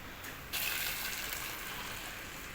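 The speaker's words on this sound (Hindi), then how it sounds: "तो इसमें डालने लगी हूँ मैं गर्म पानी।" Hot water gushes steadily into a container of chickpeas set to soak, a continuous close pour starting abruptly and running without talk.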